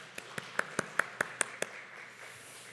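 About eight separate claps ring out in a quick, even rhythm and then stop, faint and somewhat distant with a roomy tail. It is a small round of applause in a church service, a congregation greeting sixth graders moving up to the youth group.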